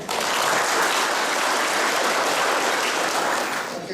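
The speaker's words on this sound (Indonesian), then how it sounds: "Tepuk tangan dulu Pak." A large audience applauds steadily at a university lecture event featuring Ridwan Kamil, a dense, sustained wash of clapping that stays loud throughout before easing slightly at the end.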